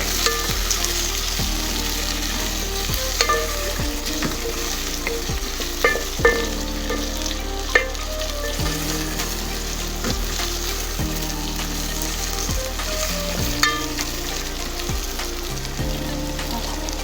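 Rice and potatoes being stirred in a hot frying pan, a steady sizzle running underneath as a spoon scrapes and turns the food in repeated strokes, close and clear.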